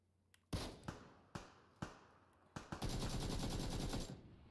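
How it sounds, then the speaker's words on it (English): PUBG gunfire on Xbox One comes as several sharp single shots spaced apart, then a rapid automatic burst of closely packed shots, loud and near. "I have no idea where I'm getting shot from."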